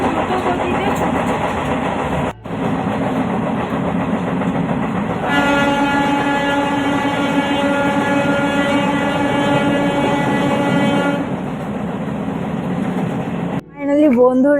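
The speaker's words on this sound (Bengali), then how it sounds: "এই দেখো ট্রেন এখন ভীষণ দ্রুত গতিতে ছুটছে।" A train runs at high speed in a loud, steady rumble heard from on board, with a long horn blast through the middle and a brief break near the end.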